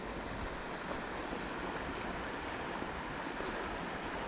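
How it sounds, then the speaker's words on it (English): A river along the West Highland Way between Bridge of Orchy and Kingshouse gives a steady, broad rushing roar with no breaks, mixed with outdoor wind noise. "Bit of a river."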